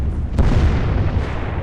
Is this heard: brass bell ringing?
no